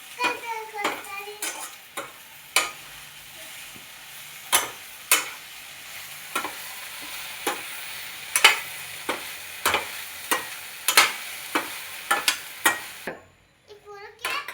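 Okra fry being stirred in a pan with a utensil: repeated sharp scraping clicks in an irregular rhythm over a soft sizzle, close by, ending in a brief quiet gap with a few faint taps.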